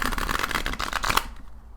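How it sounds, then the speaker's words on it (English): A deck of D&D tarot cards riffle-shuffled up close, a rapid fluttering burst of card edges lasting about a second before it stops into quiet. "So let me just see if I can give these a shuffle."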